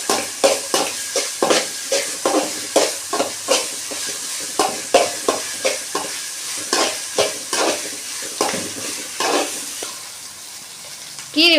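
Rapid, rhythmic scraping of a spatula stirring ginger garlic paste in a hot pan over a steady sizzle, close and fairly loud, with no talking.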